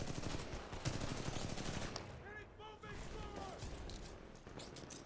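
Rapid automatic gunfire from a weapon in the video game Titanfall 2 rattles in a dense sustained burst, then resumes after a short break, with a voice talking over it.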